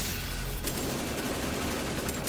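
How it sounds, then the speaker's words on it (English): Rapid gunfire in a video game shooting down flying enemies, a dense continuous burst of loud overlapping shots with no pauses, alone without talk. "shoot down these flyers"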